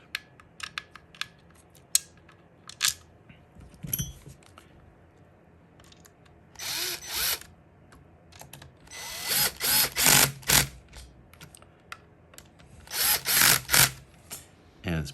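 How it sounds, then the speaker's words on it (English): Power drill driving the mounting screws of a Schlage deadbolt into a door, small clicks and handling at first, then several short whirring bursts of the drill, close and fairly loud. "Put in my two little mounting screws,"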